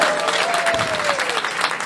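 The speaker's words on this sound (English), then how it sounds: "how about a big round of applause for Crew?" A comedy-show audience at a joke-off segment breaks into steady, dense applause that fills the whole moment, with a faint tone drifting briefly through the clapping.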